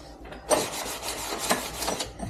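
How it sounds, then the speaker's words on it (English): Abrasive scuffing along the bottom edges of kitchen cabinets before painting: close, repeated rasping rub strokes with a few sharper swipes, steady and moderately quiet. "So make sure and scuff that really good."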